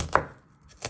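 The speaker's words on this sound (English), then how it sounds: "you just want to chop them into little pieces." A knife chops an onion into small pieces on a board, giving two or three crisp, close knocks spaced unevenly within a second, with no speech.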